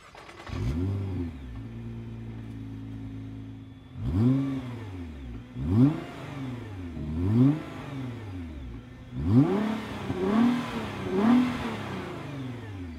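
A Nissan GT-R's stock exhaust revs repeatedly, rising and falling in several distinct throttle blips after an initial idle, close and fairly loud.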